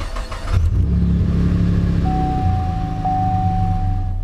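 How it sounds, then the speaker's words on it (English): A manual-transmission car engine cranks briefly, then catches and settles into a steady, loud idle close by, with a thin whine running through the rumble. "You just start the car, put the key in, and depress the clutch fully,"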